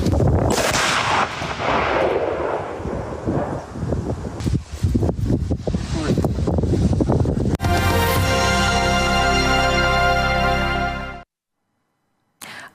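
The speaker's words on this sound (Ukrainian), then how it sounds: "поліцейські контрольований підрив провели на місці виявлення" A loud, deep explosion booms amid wind buffeting and rustling, followed by a long ringing, reverberating tail that cuts off abruptly, from a police controlled detonation of explosive ordnance on site in Ukraine.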